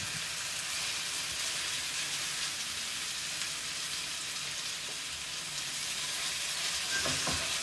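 Chicken kali mirch tikka skewers fry in butter, giving a steady, dense sizzle and crackle that runs unbroken and close throughout, with no voices.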